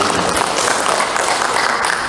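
Dense, loud applause from an audience at a government press event in Manokwari, West Papua, a continuous wash of many hands clapping close by for the whole stretch.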